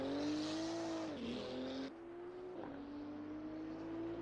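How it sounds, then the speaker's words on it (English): A GT2 race car in Assetto Corsa Competizione at the Red Bull Ring holds a loud, steady engine drone, its pitch dipping at a gear change, with brief exhaust crackle between shifts. "Every time it changes gear, then if you can, you sort of hear that like crackle of the exhaust."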